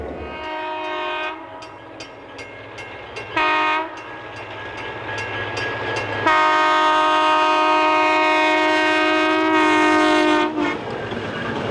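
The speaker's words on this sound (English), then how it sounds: "the snow train soon leaves the city behind" An Algoma Central snow train pulls out under a long, loud diesel horn that sounds in several sustained blasts over the steady rumble and clatter of rolling cars.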